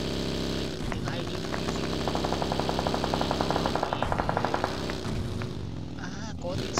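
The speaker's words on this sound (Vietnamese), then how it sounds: "có tiếng súng, có tiếng súng" Gunfire in the mobile battle royale game PUBG Mobile: a run of rapid automatic shots crackles steadily through the middle and fades toward the end, mixed over a low engine drone with someone talking over it.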